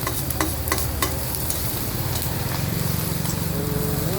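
Red ant eggs frying in a pan: a steady frying sizzle, with scraping stirs and occasional clinks over a continuous crackling hiss.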